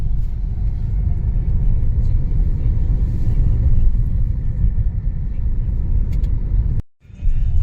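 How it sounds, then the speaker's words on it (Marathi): Steady road traffic on Saki Naka road in Mumbai, near the metro station: a continuous loud rumble of car and bus engines. It holds level for several seconds and drops out for a moment near the end. "इथेही ट्रॅफिक आहे"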